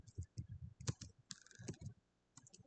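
Someone types a git clone command on a computer keyboard, a quick run of close, crisp key clicks with a short pause before a few more taps.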